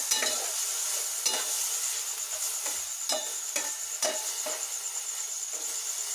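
Green chillies and tomatoes frying in oil in a pan, a close steady sizzle punctuated by about ten rhythmic stirring scrapes of a spoon, no voices.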